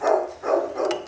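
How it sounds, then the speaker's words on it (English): A dog barks three quick times somewhere nearby in a home kitchen, short sharp yaps in a loose rhythm with no voices over them. "Please excuse the dog barking."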